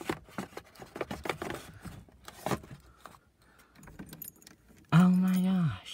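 Car keys for a 1989 Ford F-350 with a 7.3 engine jangle in several quick metallic bursts, close by, as they are pulled out, followed by a brief loud tone near the end.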